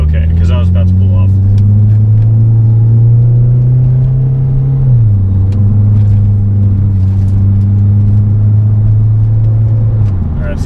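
A turbocharged car with new Maptun suspension, driven hard in manual mode on a cool morning, its engine droning loud and steady with a drop in pitch at a gear change, under faint talk.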